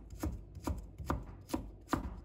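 A knife shreds fresh ginger on a board with five evenly spaced, crisp chops, close and clear, with no voices.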